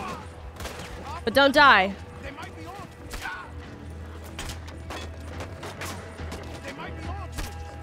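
Gunfire in Red Dead Redemption 2 crackles through a brief loud burst near the start, with scattered lighter shots afterward, all beneath ongoing conversation and game ambience.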